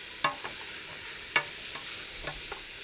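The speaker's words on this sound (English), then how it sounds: "while that's simmering down" A pot of spinach and sweet potato soup with onions simmers quietly, giving a soft steady sizzle broken by a few faint clinks of stirring.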